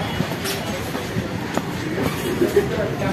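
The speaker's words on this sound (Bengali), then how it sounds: "তো ওয়াগান চলেছে, ওয়াগান।" Freight train wagons roll past near a station in a continuous heavy rumble, with faint clicks and clacks from the wheels over the track throughout.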